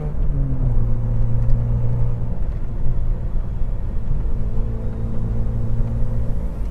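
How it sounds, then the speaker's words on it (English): A 1999 Alfa Romeo GTV 2.0 TwinSpark fitted with a loud stainless exhaust drives past, giving a steady, close, droning rumble with a low engine note that holds throughout, no voices. "Someone's fitted a stainless pipe to this car, and it is pretty noisy, but it sounds superb"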